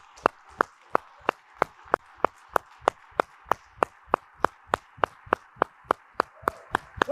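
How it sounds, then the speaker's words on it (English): An audience at a business event stands and claps in unison, about twenty sharp, evenly spaced hand claps ringing out loud and steady over a faint background murmur. "Everybody stand up. Here we go. Clap your hands."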